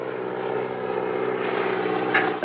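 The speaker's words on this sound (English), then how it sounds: "That plane's dusting crops where there ain't no crops." A crop-dusting propeller plane drones steadily overhead, its even engine hum holding constant loudness throughout, with no talking.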